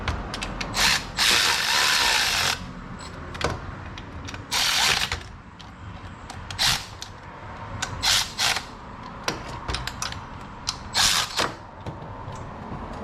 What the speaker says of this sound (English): I'll go around them with a hand ratchet.